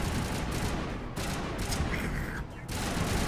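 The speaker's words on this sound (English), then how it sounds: "What are you two shooting at?" Mass Effect Legendary Edition combat gunfire: a dense, continuous rattle of shots with a few brief dips, somewhat distant and blended into a noisy game mix, with a voice talking over it.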